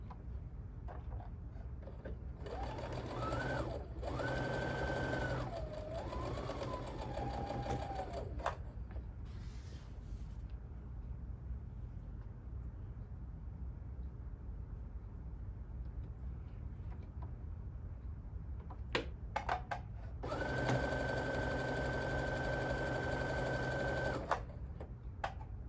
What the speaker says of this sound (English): Alright, so I'm just sewing these.